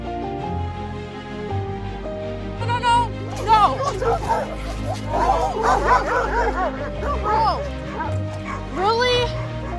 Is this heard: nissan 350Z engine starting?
no